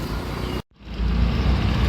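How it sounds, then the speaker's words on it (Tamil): Road traffic hums loudly and close, a dense vehicle rumble that drops out for a split second before resuming stronger. "எங்கே எடுத்தாலும் டிராஃபிக் தான் மக்களே"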